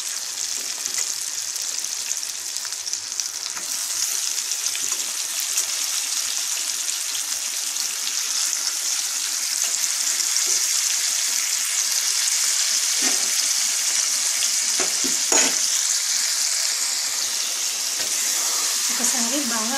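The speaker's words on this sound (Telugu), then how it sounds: "ఇప్పుడు ఇందులోకి చికెన్ వేసుకుందాం." Chicken for chukka kura frying in a hot pan, a steady loud sizzle running throughout with occasional clinks and scrapes from stirring.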